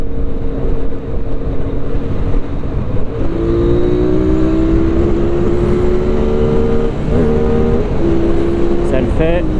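A QJ Motor SRV550 motorcycle pulls hard in fourth gear from about 4500 rpm during a kickdown, its loud engine note climbing steadily and holding close over constant wind roar.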